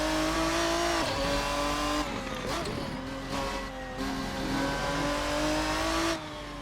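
A Ferruccio 57 front-engine GT race car in a racing video game revs hard and climbs through the gears, its engine note rising, dropping at each shift and then rising again, loud and close.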